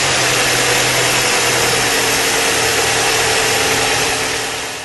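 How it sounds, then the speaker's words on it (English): A car engine runs at idle right after new spark plugs are fitted, a loud, close, steady hum with low vibration that eases off at the very end. "we can then start the engine."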